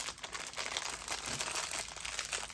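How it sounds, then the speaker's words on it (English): A thin plastic bag crinkles close by in soft, continuous rustling bursts for a couple of seconds, quiet overall and without speech. "this just is a plastic bag you can get anywhere"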